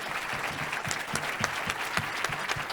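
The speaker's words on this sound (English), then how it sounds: "Let's give them a big round of applause" An audience at a chefs' panel discussion applauds steadily for a few seconds, a dense wash of clapping heard from within the room with scattered louder claps.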